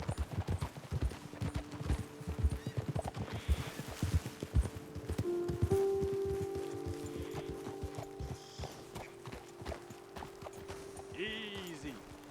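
Horse hooves in Red Dead Redemption 2 clip-clopping on hard ground, a steady rhythmic walking gait that slows and fades, with voices talking over parts of it.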